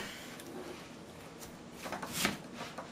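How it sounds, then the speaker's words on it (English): A knife slices a potato in half, a quiet rubbing scrape followed by one sharp cutting stroke near the end, close and without talk. "we are simply just going to cut our potato"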